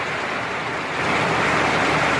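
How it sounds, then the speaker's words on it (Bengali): Heavy rain and strong wind during a flood-threatening storm, a dense, steady roar of broadband noise that swells louder halfway through, with no voices. "যেই বৃষ্টি সেই বাতাস, প্রচুর পরিমাণ বাতাস ভাই"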